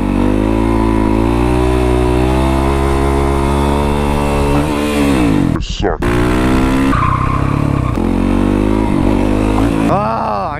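A Yamaha WR450SM supermoto motorcycle, ridden in first gear, revs loud and close throughout with a steady engine drone, a brief sharp drop as the throttle cuts, then climbing and falling revs as it pulls again.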